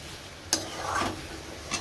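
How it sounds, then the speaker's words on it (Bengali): Chicken and potato with mixed spices being stir-fried in a kadai (wok), with a sharp spoon clink and soft scraping and rustling between quieter moments, fairly faint overall. "সব রকম মশলা চিকেন আর আলু দিয়ে কষানো হচ্ছে"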